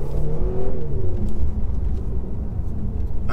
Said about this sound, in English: That engine sounds good though, doesn't it?